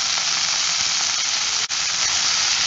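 Fresh mint leaves sauté in a hot pan with salt, giving a steady, loud sizzle and hiss that stays even throughout, broken only by one brief dip.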